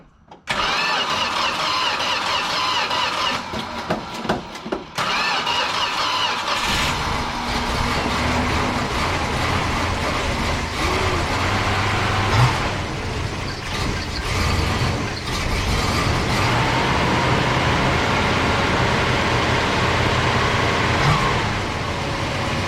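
An overheating car's engine cranks for several seconds, catches, and settles into a loud, steady running idle with occasional rises in revs, close by and with no voices over it.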